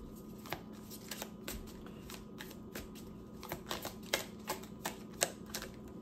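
Tarot cards are shuffled and drawn with a run of quick, soft, close flicks and snaps in an irregular rhythm, fairly quiet overall.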